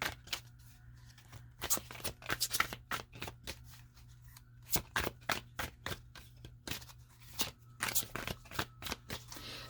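A Mermaid Tarot deck is shuffled by hand, producing a rapid series of crisp riffling snaps and card slaps in irregular bursts, close up over a faint background hum.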